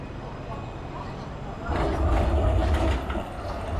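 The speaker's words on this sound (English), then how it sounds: "Another tram" A tram rumbles past up close in Melbourne's city centre, its low roar swelling midway and lingering, with faint street noise around it.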